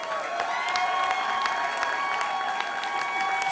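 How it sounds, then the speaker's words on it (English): Crowd applause at a campaign speech by Governor Cuomo, dense clapping with a few cheers, sustained and even throughout, filling a large hall without pauses. "Give them a round of applause."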